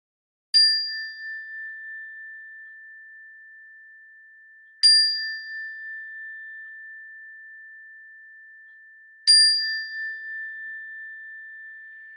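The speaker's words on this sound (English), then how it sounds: "listen to the sound of the bell until you can't hear it any longer" Meditation bell struck three times at even intervals, each a clear pure ring that slowly decays and fades in a quiet room with no talking.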